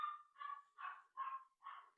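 A dog barks five times in a steady rhythm, sharp and fairly faint, from somewhere indoors, with no voices.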